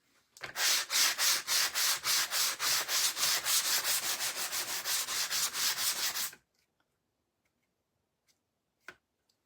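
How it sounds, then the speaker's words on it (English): Rhythmic back-and-forth strokes of a sanding sponge on wood, about twenty quick even passes, close and loud, then silence with a couple of faint clicks. "Let's go in with our sanding sponge here."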